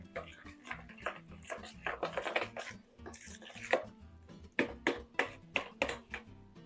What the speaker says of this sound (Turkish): Sosumuzun içerisine ilave ediyorum ve yine karıştırıyorum şu şekilde.